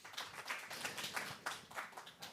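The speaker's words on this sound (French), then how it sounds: "On peut les applaudir." A small audience at an evening science talk gives faint, distant applause, scattered hand claps pulsing irregularly in a soft wash with no voices over them.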